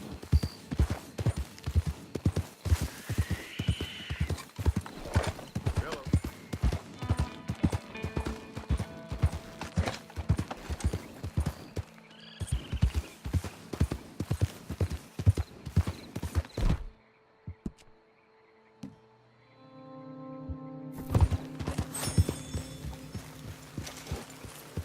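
Horse hooves clip-clop steadily in Red Dead Redemption 2, a fast rhythmic trot of close, distinct hoof strikes that breaks off briefly, then returns under game ambience with a faint whinny.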